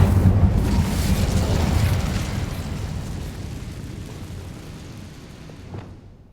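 An Incendio fire spell is cast in Hogwarts Legacy, a loud whooshing burst of flame with a deep rumble that slowly fades over several seconds, ending with a small crackle.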